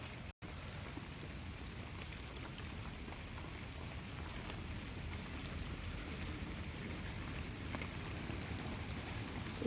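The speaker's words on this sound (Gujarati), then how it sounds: "वरसाद भी थोड़ो झरमर આવ્યા કરતો છે" Light drizzle falling over a green Gujarati village, a soft, steady patter of raindrops at a low level that runs continuously, broken only by a brief dropout near the start, with no speech.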